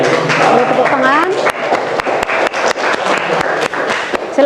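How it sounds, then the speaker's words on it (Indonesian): A school class claps for a group after its presentation. Voices and talk come first, then a string of separate, sharp claps rings out fairly close, loosely rhythmic rather than a full roar. "Boleh tepuk tangan."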